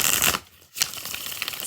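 Tarot cards being shuffled by hand at close range, a dense papery riffling that stops briefly partway through and then resumes steadily, with no voices.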